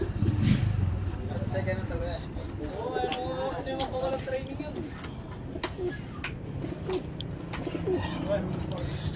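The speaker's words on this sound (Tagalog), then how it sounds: "Yan yung mga ibon." Pigeons coo softly and repeatedly in the background while people talk nearby, with occasional traffic noise.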